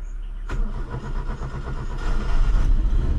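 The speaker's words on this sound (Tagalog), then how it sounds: "Yan, start engine." A car engine turns over and starts, then idles with a steady, close rumble that grows louder toward the end, no talk over it.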